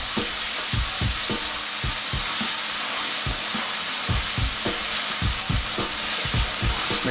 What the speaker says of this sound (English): we're just going to saute that very quickly